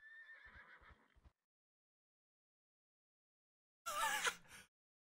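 A horse in the video game Riders World: I Want to Ride! whinnies with a bright, wavering cry, preceded by a few soft thuds and some fainter sound, then a pause before a second loud neigh.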